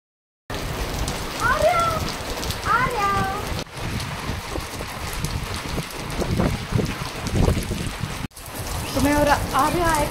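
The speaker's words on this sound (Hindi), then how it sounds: "बारिश बहुत तेज है" Heavy rain in Jaipur pours down steadily with gusts of wind buffeting the microphone, while chirping birds and faint voices come and go.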